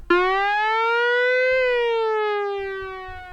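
Behringer K-2 synthesizer tone gliding in pitch, rising slightly then sweeping steadily downward as the envelope releases, a clear buzzy sustained note that fades gradually, with no voices.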